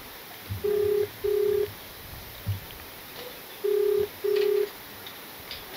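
A telephone rings down the line during a call, two short pairs of tones with a gap between them, faint and thin against background hiss.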